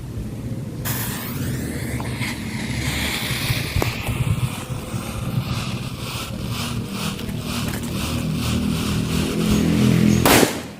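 A firecracker stuffed inside a bamboo tube goes off outdoors in the late afternoon, a sudden sharp burst followed by a long rumbling, hissing roar that swells before a loud final crack cuts it off.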